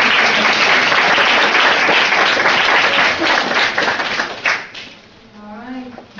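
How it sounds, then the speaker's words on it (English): An audience at an artist collective talk in Gwangju gives a loud, dense round of applause that tapers off near the end, when a voice begins speaking. "Everybody give her another round of applause."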